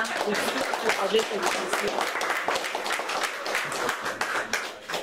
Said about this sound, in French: Alors, applaudissez-vous pour votre présence aujourd'hui.